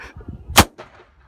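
DT Systems Super Pro dog training dummy launcher fired with a gunpowder charge outdoors, one sharp loud bang followed by a short ringing clatter, with faint background noise around it.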